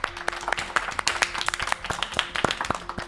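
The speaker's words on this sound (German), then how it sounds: "Also nochmal Applaus für euch." Applause for rap performers in a reaction setting: a small group claps steadily and sharply at close range, a dense patter of hand claps with little talk.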